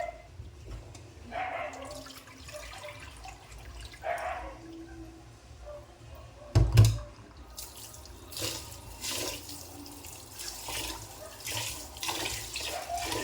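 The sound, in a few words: rice being washed in water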